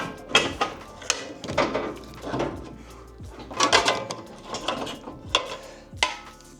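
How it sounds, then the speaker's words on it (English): A pry bar works a strut loose from the lower control arm of a Ford F-150 during a 2-inch leveling kit install, giving repeated metallic clunks and scraping knocks in uneven bursts, close and moderately loud. "we'll just put it underneath our strut and just pry gently on it just to work the strut out of the lower control arm"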